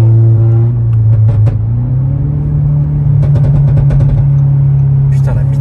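A Stage 2 tuned car engine making 400 hp revs hard against the rev limiter, a loud, close, steady drone broken by rapid stuttering cutoff bursts.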